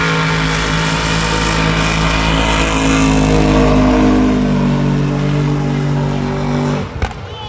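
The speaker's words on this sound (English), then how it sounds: "He was going for a 300-foot burnout and got out of shape at the end and just tapped into the wall." A race car at a drag race revs hard through a long burnout, a loud continuous engine roar with a steady exhaust drone, ending abruptly with a brief thump near the end.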